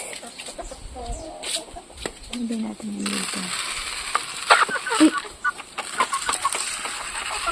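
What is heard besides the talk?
chickens waiting to be fed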